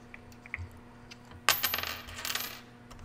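A nickel slides and drops down a ramp, rattling once quietly near the start and then landing in a sharp, bright clatter that rings out and fades.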